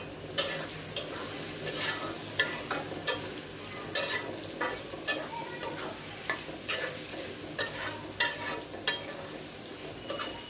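Bay leaves sizzling in hot oil for pulao, with a steady frying hiss broken by sharp crackles and spatters in an irregular rhythm, close and fairly quiet, no voices.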